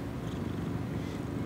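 A pet cat purrs in a close, steady rumble, a continuous low vibrating drone with no other sounds on top.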